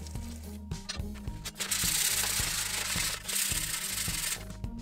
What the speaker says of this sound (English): we will give a 5 minutes wet sanding, so that way we will clean the surface